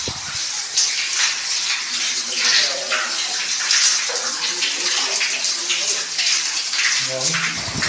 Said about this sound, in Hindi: निरंतर मृगधारा का जल बहता रहता है